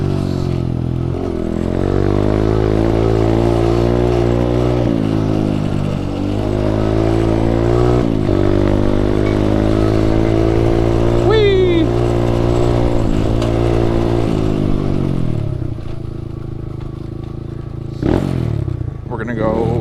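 An SSR125 pit bike being ridden, its small engine droning loud and close with rising and falling revs and gear changes throughout, the rider's voice coming through over the engine.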